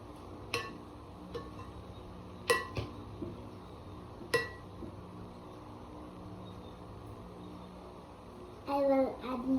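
Salad ingredients are tossed in a bowl, giving sparse, fairly quiet clinks and knocks of a utensil against the dish at irregular intervals, ending in a short burst of scraping and stirring.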